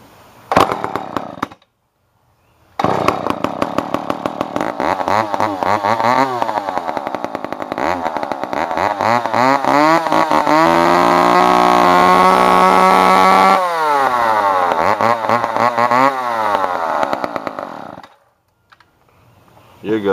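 Gas engine on a log splitter sputtering to life after pull-cord starts, short bursts of cranking then a loud steady running drone with a rising rev, cutting off near the end.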